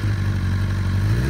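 A used 2005 Honda CBR1000RR superbike's engine runs with a quarter turn of throttle, a loud, close, steady mechanical drone with a strong low hum, brief and without talk.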